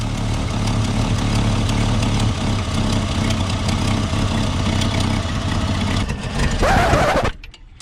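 A Jeep engine idles rough and uneven after a fuel filter fix, its steady, loud running rumble holding for several seconds before a brief rise and an abrupt cut.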